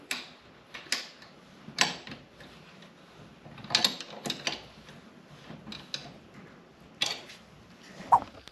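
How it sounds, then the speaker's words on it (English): A spanner is turned while assembling an electric bike, giving scattered metallic ticks and clicks at irregular intervals, close and fairly quiet with no voice. "So let's just twist this round, make sure that the spanner is on there properly."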